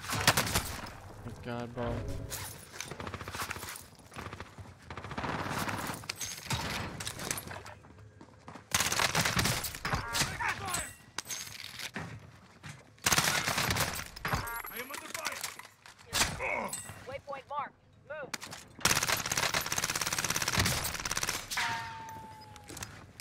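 Gunfire from Call of Duty Warzone on Rebirth Island, with a CX-9 in play: repeated bursts of automatic and single shots, loud and close, in clusters through the fight, with someone talking over the action.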